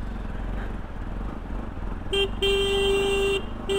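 On a slippery mountain road, a vehicle horn honks in a short toot and then a long steady blast, loud over a constant engine rumble and road noise, with one more brief toot at the end.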